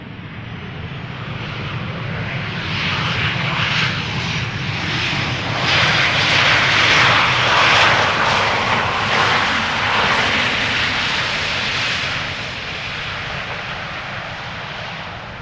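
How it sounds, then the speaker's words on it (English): A Transavia Boeing 737-800 jet, registration PH-HBJ, arriving at Amsterdam Schiphol from Olbia, swells into a loud nearby roar that peaks mid-pass with a broad hissing whine, then gradually eases as it moves away. "Transavia up next, arriving from Olbia, flight 6916 737-800"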